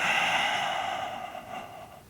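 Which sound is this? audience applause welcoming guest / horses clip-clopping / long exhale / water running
long exhale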